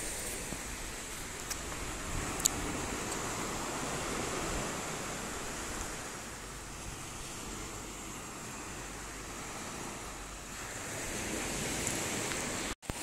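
Steady, continuous wash of waves on a beach in Zanzibar, a close, even roar of surf with slight swells in loudness and no talking.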